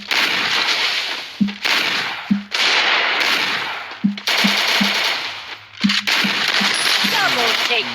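Rapid automatic gunfire in the mobile battle game Free Fire, loud sustained bursts broken by short pauses, with a voice talking over the shooting.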